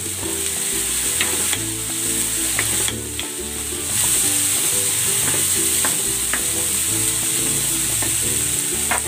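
Dried shrimp sizzle and crackle in a hot pan while being stirred, a steady loud frying hiss with occasional scraping of a utensil against the pan, no talking.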